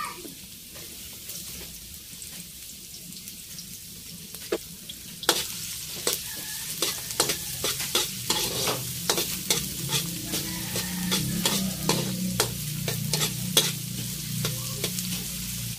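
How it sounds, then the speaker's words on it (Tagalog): Onion and garlic sautéing in hot cooking oil, a quiet start then a steady crackling sizzle from about five seconds on, with scattered pops and stirring scrapes close by, no talk. "At tayo ay magigisa na. Maglagay na tayo ng mantika. Lagyan na natin yung ating sibuyas at bawang."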